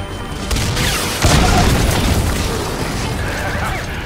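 The Honeybee weapon fires in Metal Gear Solid V: The Phantom Pain, with heavy booming blasts that hit once and then again harder, followed by a rumbling, crackling tail of explosions.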